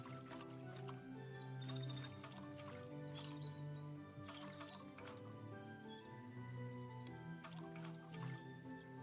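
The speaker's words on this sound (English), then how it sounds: "Just water what we need to water." Watering plants with a water pail in the Tales of the Shire video game: soft squishing, dripping liquid sounds over a continuous layer of game music, moderately loud throughout.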